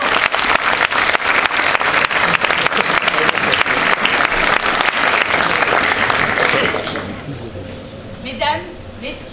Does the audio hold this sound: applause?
yes